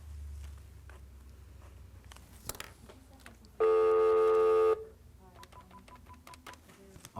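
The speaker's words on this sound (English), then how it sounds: "Your call has been forwarded." A telephone call being forwarded, heard as a loud sustained tone burst lasting about a second. Faint clicks and scattered noise come before it, and a quieter ringing tone follows.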